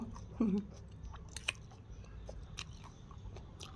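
Soft wet chewing of tender pork from a bowl of noodle soup, steady and close, with a few brief sharper bites.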